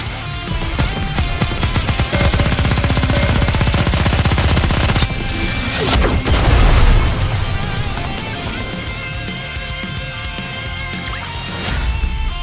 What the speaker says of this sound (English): Nothing can stand against my firepower.